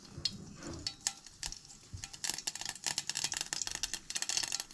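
Asafoetida tempering in a hot pan for Goan potato bhaji, crackling and sizzling in a busy run of sharp pops and clatters, with utensil stirring and scraping close up.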